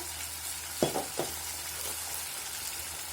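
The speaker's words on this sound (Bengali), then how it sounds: "এক চামচ ধনিয়া গুঁড়া দিয়ে আমি আরেকটু নাড়িয়ে নিব।" Spices such as ginger and garlic paste, cumin and coriander powder sizzle in hot oil for a chicken roast, a steady broad hiss with a couple of short stirring scrapes near the start, no voices.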